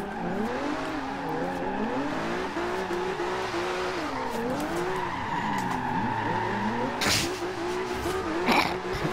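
Turbocharged cars in the Forza Horizon 2 racing game, including a twin-turbo Genesis and an S13, rev and whine through an online drift session. Tires squeal and skid over a continuous engine roar.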